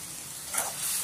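Tomato puree sizzling in hot oil with ground turmeric and chilli, a soft steady frying hiss that swells briefly as it is stirred, close and alone with no talk.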